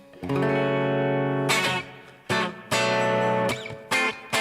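Clean electric guitar chords ring out through an amp voiced like a Deluxe Reverb, sustained strums with a short pause, then several more chord hits, bright and slightly reverberant.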